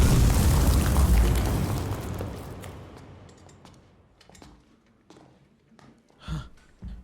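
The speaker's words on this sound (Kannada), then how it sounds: "ಜಸ್ಟ್ ಚಿಕ್ಕ accident sir, nothing to worry. Good to know. ಒಂದು ಮಿನಿ ಸ್ಮೋಕ್ ಗ್ರೆನೇಡ್ ಅಷ್ಟೇ" A mini smoke grenade bursts with a loud, broad hissing rush at the start that slowly fades over several seconds, followed by scattered clatters and a short thump near the end.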